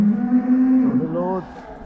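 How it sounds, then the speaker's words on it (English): A single cow moos close by while cattle are being loaded on a drought-stricken farm, a long steady low bellow that rises in pitch before breaking off, with no talk over it. "So they load some cattle."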